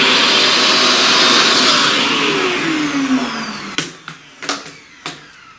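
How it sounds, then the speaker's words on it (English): A vacuum cleaner runs with a steady broadband whoosh during a pastel flower drawing session, its pitch sliding down as it winds off, followed by a few sharp taps. "Let's vacuum."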